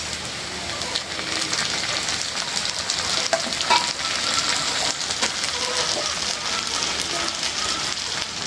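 Onions fry in a pan with green chilies added during fish curry cooking, a dense, steady sizzle with stirring scrapes, close and continuous.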